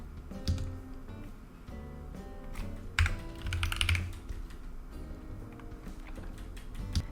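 Fingers type on a computer keyboard in quick, irregular bursts of close, crisp key clicks, with short pauses between runs and no talking.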